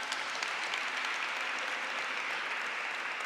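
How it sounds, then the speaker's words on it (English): Audience applauding performers at a Lunar New Year community event, a dense, even wash of many hands clapping at a steady level throughout, with no clear gaps. "Let's give them another big round of applause."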